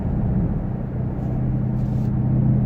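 Dodge Durango SRT with a Magnaflow mid muffler cruising at about 74 km/h, giving a steady, low exhaust and road rumble with no drone, even and continuous throughout.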